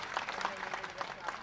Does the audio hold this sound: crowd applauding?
yes